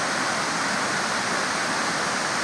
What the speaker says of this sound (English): But a lot of water. Instead of a trickle, it's all the way across and rushing pretty good.